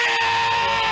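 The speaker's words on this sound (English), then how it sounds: "Let's hear a debt-free scream." A crowd of voices lets out a loud, sustained celebratory debt-free scream together after a countdown, high and bright, held steady for the full second.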